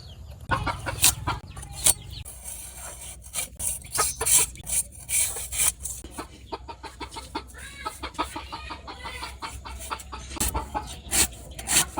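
Radishes being cut by hand in a village kitchen, a run of short scraping, chopping strokes at close range with an uneven rhythm, alone with no talk.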